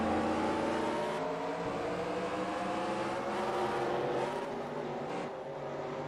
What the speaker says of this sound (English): that is telltale sign of a missed shift or a lost gear